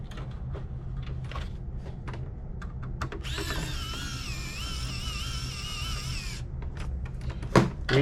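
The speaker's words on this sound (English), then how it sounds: "Reinstall the Phillips screw." A screwdriver drives a Phillips screw back into a PS3 Fat CECHH01 console, with a short, close motorised whine lasting about three seconds amid light clicks and handling noise.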